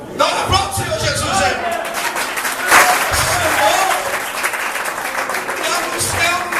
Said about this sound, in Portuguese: Dá uma aplauso, Senhor Jesus.